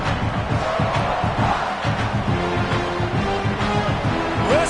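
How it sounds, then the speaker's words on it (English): A football stadium crowd at a Mississippi State versus South Carolina game roars continuously, a dense, sustained wall of voices with some tonal noise woven through it. "Listen to this crowd just shaking the girders of this place, trying to help their defense."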